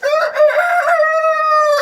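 A rooster at a French home breeding yard crows loudly and close, one long sustained cock-a-doodle-doo with a strong, clear tone filling the moment, no talking.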